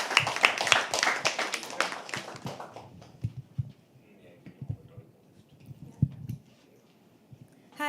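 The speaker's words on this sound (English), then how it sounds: "Start clapping" An open-mic poetry audience at The Habitat claps in a loud burst for about three seconds, then trails off into scattered isolated claps and soft room noise.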